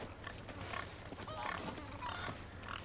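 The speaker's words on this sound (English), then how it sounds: "An albino pig." An albino pig in the Resident Evil 4 Remake video game grunts in a few soft, short snorts spaced across the moment, faint and close, under quiet game ambience.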